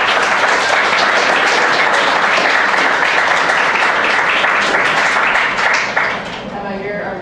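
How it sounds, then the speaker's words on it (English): Panel audience on immigration breaks into sustained, loud applause from a crowd, dense clapping filling the room throughout before thinning slightly near the end. "let's give them a round of applause."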